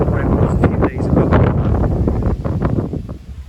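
Strong wind gusting across a garden flower bed of purple salvia Amethyst Lips on a cold, cloudy day, a loud, continuous roar with buffeting rustle close to the microphone.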